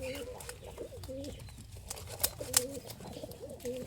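Racing pigeons coo in a steady, repeating series of soft, rolling calls close by, with a couple of sharp clicks and faint background murmur.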